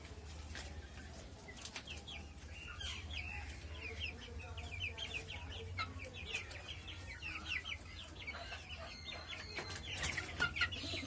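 Chickens cluck busily and continuously while feeding, over a steady low hum, with scattered pecking taps and a few wing flutters in a noisy yard.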